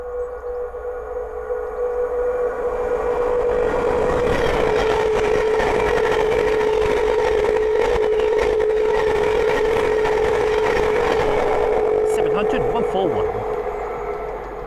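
A Thameslink Class 700 electric train running from Horsham to Peterborough passes close by on the East Coast Main Line at Sandy, a loud sustained roar with a steady whine that holds for about ten seconds before easing off.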